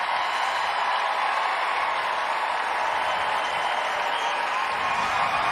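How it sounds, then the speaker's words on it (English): Steady roar of a large crowd applauding and cheering at an indoor Working Group dog show judging ring, a continuous hissing wash of claps and voices at even loudness throughout. "Now the crowd is really getting excited about these"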